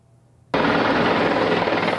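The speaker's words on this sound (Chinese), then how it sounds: "直升机缓缓降落在以色列的儿童医院" A helicopter lands at a children's hospital in Israel. After a brief quiet moment, a loud, close, steady roar of rotor and engine noise cuts in abruptly and holds without letup, with no voices.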